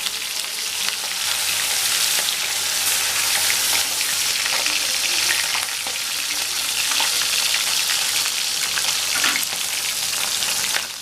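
A Bhola fish is laid into hot oil in a wok and fries with a loud, steady crackling sizzle, close and unbroken, with no voices.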